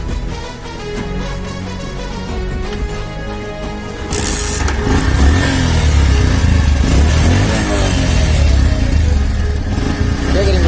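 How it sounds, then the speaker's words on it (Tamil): A motorcycle engine fires up about four seconds in and settles into a loud, steady running chug close to the listener, after a quieter stretch beforehand. "வாங்க வண்டியை ஸ்டார்ட் பண்ணி பார்ப்போம்."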